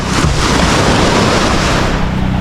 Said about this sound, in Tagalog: okay din yung alon, sakto lang.